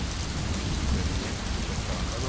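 Steady, dense rain in Survivalcraft 2 with a tech mod, pattering and bouncing off cement in a continuous loud hiss with a low rumble underneath, unbroken throughout.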